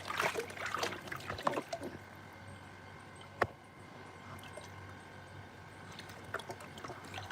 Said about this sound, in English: This is what you call water